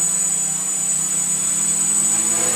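A Changeling multicopter drone hovers nearby with a steady, high electric whine and a low motor hum, holding an even level throughout.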